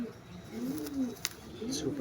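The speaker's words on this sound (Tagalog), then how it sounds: "Napakaganda ng ibon ni Boss Kirby talaga." A breeder pigeon coos softly in a low, rolling call, repeated a couple of times nearby, with quiet background sounds and brief clicks.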